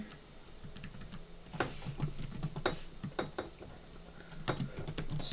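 Rapid keystrokes on a computer keyboard as C++ code for a selection sort function is typed, steady irregular clicking close up with no talk over it.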